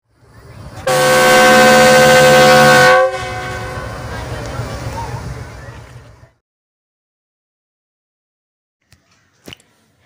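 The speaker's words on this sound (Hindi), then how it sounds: "अब सर सैयद एक्सप्रेस ने डिपार्चिंग विसल दी" The restored Sir Syed Express train sounds its departure whistle at an inauguration: a loud, sustained, harmonic horn blast for about two seconds, then a lower rumbling tone that lingers and fades, followed by near silence with a couple of faint knocks.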